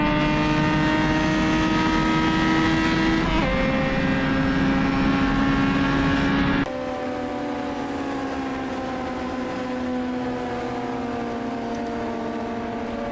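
Several open-wheel historic Formula 3 race car engines in a sim racing game, circuit in Austria, drone loudly together with rising and falling pitch as they change gear, the pack thinning halfway through to a steadier, slightly quieter whine.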